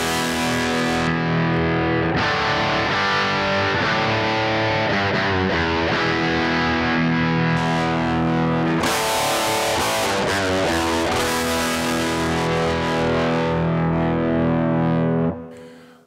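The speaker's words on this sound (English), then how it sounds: "So you're completely bypassing the cab sim. So you're getting this really dry, sizzly sound, which basically what the amp originally sounds like without a cab." A distorted electric guitar riff through a VOX MV50 amp with the cab sim bypassed, sounding dry, harsh and sizzly with bright fizz; chords and palm-muted runs play loud and continuous, then cut off at the end.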